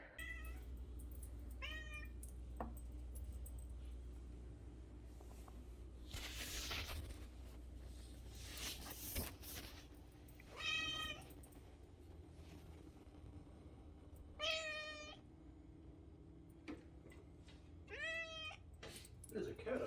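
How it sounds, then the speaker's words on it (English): A cat meows several times outdoors, each call spaced a few seconds apart, with people talking nearby and a low rumble of traffic or a passing train underneath. "There's a cat over there."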